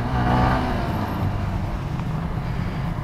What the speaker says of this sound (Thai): ผมจะเปิดคันเร่งแซงทันไหมเนี่ย